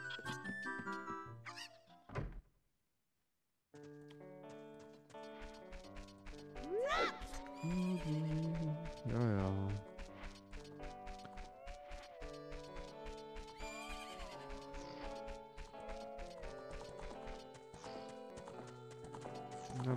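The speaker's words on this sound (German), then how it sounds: "Pferdchen, was willst du?" A horse in the Nintendo 64 game Zelda: Ocarina of Time whinnies and its hooves clip-clop, heard within continuous layered game music and loud throughout apart from a brief dropout near the start.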